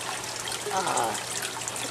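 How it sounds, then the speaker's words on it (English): Water trickling out of an aquaponics bell siphon, a steady close splashing dribble that swells briefly near the middle with faint background hum. "the bell siphon, it will come out down here in many trickles of water"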